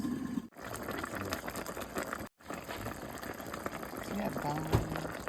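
Turnip green broth with beef bones cooking in a pot on a stove, a continuous bubbling and sputtering simmer with small pops, close and steady, while a person talks over it.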